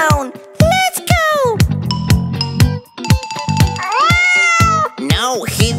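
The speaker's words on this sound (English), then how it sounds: "There is a kitten stuck in a tree!" A cartoon kitten stuck in a tree meows repeatedly in high, drawn-out cries, loud and close, with a voice and tinkling musical sounds around it in a children's song.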